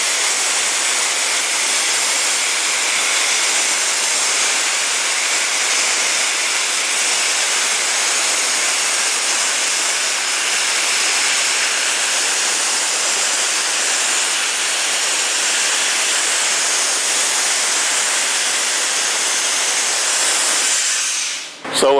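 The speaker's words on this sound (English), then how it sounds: "your operator now can sit out there with just the compressed air and dry that workpiece off" Compressed air blasts through a wet AmphiBlast blast hose and nozzle with abrasive and water shut off, a loud, steady, unbroken hiss lasting over twenty seconds before cutting off abruptly.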